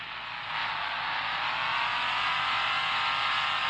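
A Jeep engine in the Offroad Outlaws game drifts in low gear, a loud sustained revving whine that jumps up after half a second and holds steady to the end, with no talk.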